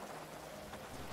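Steady in-game rain from Grand Theft Auto V NoPixel roleplay, a soft, even broadband hiss of falling drops at moderate level with no break or talk over it.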